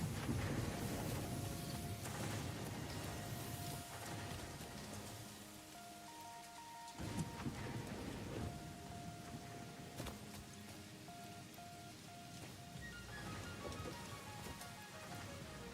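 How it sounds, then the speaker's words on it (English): Rain falls in the factory-building video game Satisfactory, a soft, steady hiss of rainfall kept quiet and low under sustained in-game tones and chiming music that drift in and out. "Is it raining? It's raining."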